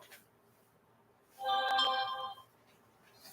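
A mobile phone ringtone chimes for about a second, fairly loud and alone amid a quiet room, then stops.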